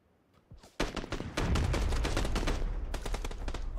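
Rapid SKS rifle fire in PUBG, a burst of loud, closely spaced gunshots with hard echoing cracks, with more shots following after a brief gap and no speech over them.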